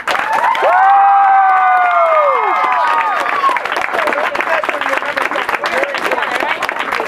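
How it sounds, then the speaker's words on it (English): Convention audience at a closing session applauding and cheering, dense sustained clapping with whoops and shouts throughout, loud and close, a voice rising briefly over the crowd near the start. "I want you guys to give yourself a big round of applause just for all of you"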